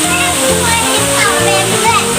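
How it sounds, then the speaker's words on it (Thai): A waterfall at Korat Zoo roars with a constant, loud rush of water while a child and an adult talk over it nearby. "โอ้มีน้ำตกด้วยเนี่ย"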